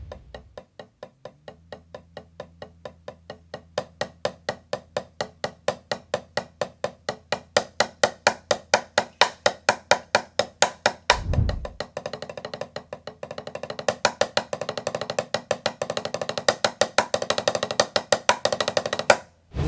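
Drumsticks strike a practice pad in a fast, even stream of sharp taps, starting quiet and swelling steadily louder, with a brief low thump near the middle and no voices.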